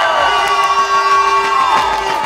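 Crowd at the Seefeld Nordic Combined Triple cheering for Erik Frenzel, loud sustained shouting and whooping from many voices, mixed with music or horn tones and rhythmic low thumps.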